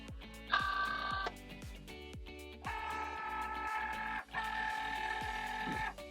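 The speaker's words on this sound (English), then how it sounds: "And then we can load our mat into the Cricut Joy" A Cricut Joy cutting machine draws in its cutting mat with a whirring motorized hum that starts and stops in several bursts, punctuated by short mechanical clicks, heard close up with no talking.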